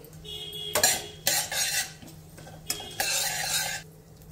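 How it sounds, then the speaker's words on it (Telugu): Metal utensil scraping and stirring in a pan as tempering spices go into hot oil, several rough bursts of clatter with a faint sizzle beneath, no voices. "ఇప్పుడు నూనె వేడెక్కిందండి, ఇందులో పోపు దినుసులు వేసేసుకుందాము।"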